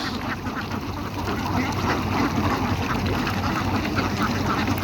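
A large flock of big ducks quacks continuously and loudly while eating near a river on a farm in Bangladesh, a dense, overlapping chorus close by with no pauses.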